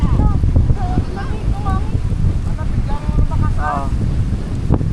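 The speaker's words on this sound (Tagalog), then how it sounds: "ang lakas ng hangin dito" Strong outdoor wind in Pandan, Antique buffets the microphone in a steady low roar, while several voices talk over it throughout.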